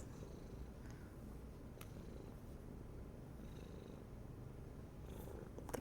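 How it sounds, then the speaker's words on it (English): A cat purrs in a steady, continuous rumble, close to the microphone and fairly loud, with no pauses and no one speaking. "The purr is loud, is it?"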